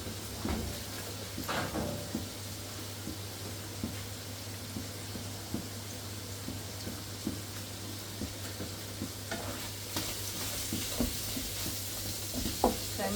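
Ground mince browning in a frying pan, a steady low sizzle with occasional stirring scrapes and clinks throughout, no talking.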